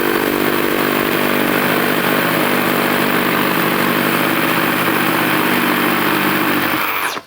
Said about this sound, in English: So I'm hoping that this Diablo one will cut a little bit better.